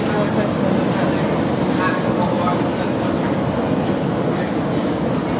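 A metro train runs through a 1980s Budapest station with a continuous loud rumble and rattling wheel noise, steady throughout.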